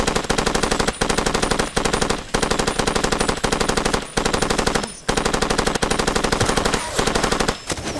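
Long, rapid bursts of automatic assault rifle fire in the video game Far Cry 2, loud and close, broken by brief pauses between strings of shots.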